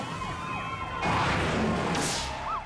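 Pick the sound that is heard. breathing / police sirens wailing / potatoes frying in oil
police sirens wailing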